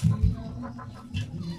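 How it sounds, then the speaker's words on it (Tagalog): Peruvian and native chickens cluck softly in a coop, a few short close calls over low background rumble. "So yan yung Peruvian at saka yung mga native chicken."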